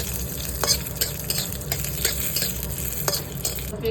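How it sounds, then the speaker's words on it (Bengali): Peanuts and raisins frying in a pan for poha, with a steady sizzle and repeated scraping stirs at a close, even rhythm. "প্রথমে আমি বাদামগুলো ভেজে নিচ্ছি পোহা বানানোর জন্যে। কিশমিশটা দিয়ে একটু নেড়ে নিচ্ছি।"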